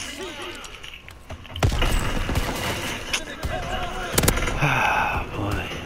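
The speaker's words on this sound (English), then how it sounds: "Oh, of course, the many grenades." Grenades and gunfire bursting in the Call of Duty: WWII multiplayer game, with repeated sharp blasts around two and four seconds over a steady din of battle, while a player talks throughout.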